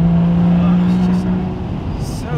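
A Porsche Boxster Spyder driving on winding Scottish Highland roads, heard as a loud, steady engine drone close by, easing slightly toward the end.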